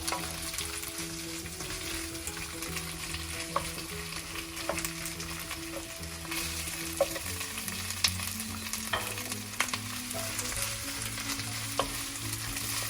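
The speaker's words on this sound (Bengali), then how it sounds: "আর মরিচ কুচি, এগুলি একটু জাস্ট নেড়ে চেড়ে চিকেনটা দিয়ে দিব।" Chicken with chopped chilies and garlic sizzles steadily in a hot pan as it is stirred, with occasional soft scrapes and taps from the utensil over a constant frying hiss and background music.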